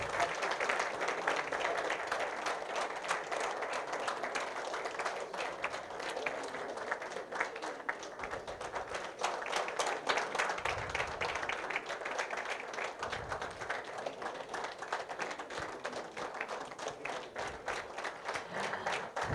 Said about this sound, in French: On ne va pas se priver de les applaudir quand même.